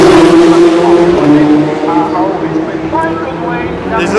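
Audi prototype race cars at the 24 Hours of Le Mans 2016 roar loudly with high engine whine, partly masked by continuous excited commentary from a race announcer.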